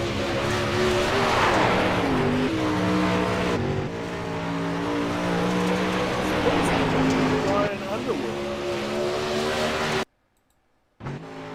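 Drag race car number 37 runs on the track with a loud, sustained engine roar and shifting tones, under continuous announcer-style talk, ending in an abrupt cut to silence.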